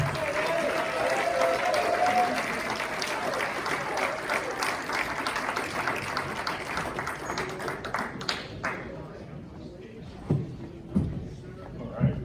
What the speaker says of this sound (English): Give Big Daddy a big round of applause,